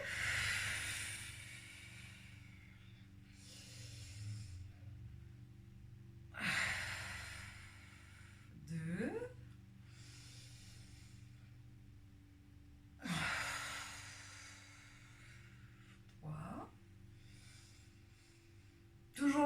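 Slow, deliberate breaths in and out during a relaxation exercise, with several soft, airy inhalations and exhalations repeating at calm intervals and faint room hum between them.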